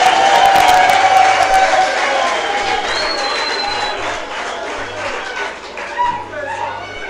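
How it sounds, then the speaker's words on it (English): An audience at a university World Philosophy Day event in Lusaka, Zambia claps steadily, the applause mixed with crowd murmur and voices, gradually thinning out toward the end. "so let's clap for them again"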